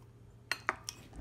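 Three quick clinks of a utensil and bowl ring out as Filipino crab sotanghon soup is ladled into a bowl, bright and close over a quiet background.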